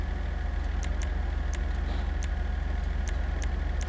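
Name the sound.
Karin Everon car engine and exhaust idling, from video game GTA Online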